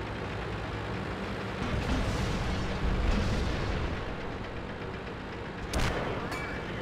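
Tank battle in the World of Tanks video game, with heavy booming cannon fire and rumbling explosions under a continuous dense roar, a sharper blast near the end.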